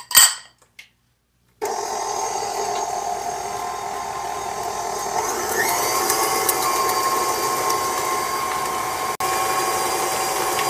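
Electric mixer beating butter, sugar, egg and vanilla cookie dough, a steady high whirring drone that starts abruptly after a short silence and runs continuously, with a slight shift in pitch partway through.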